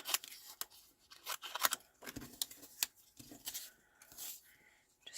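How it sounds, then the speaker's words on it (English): Scissors cutting a rough circle from a scrap of card, a series of close, crisp snips and crunchy paper cuts in uneven rhythm, quiet overall. "I'm just cutting a very rough circle."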